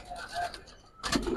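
Pigeons coo at a pigeon market selling Giribaz and colored pigeons, soft low cooing close by over a noisy background, broken off by a brief burst of louder bustle near the end.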